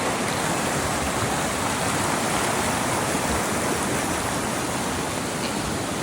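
A river flows beside a hiking trail in Armenia on the way to Matosavank Monastery, along the Trail of Medieval Monasteries. It gives a steady, close, rushing wash of water that stays even throughout, with no voices.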